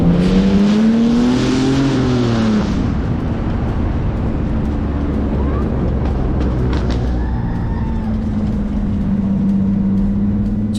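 A rough, rowdy BMW straight-six engine drones loudly and steadily on a test drive, with a rising rev swell early on, then a lower, even rumble that carries on throughout.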